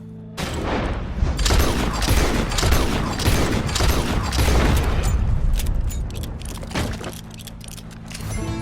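Gunfire in Red Dead Redemption 2 sounds as a dense, loud barrage of shots and booms lasting several seconds, then thinning into scattered cracks.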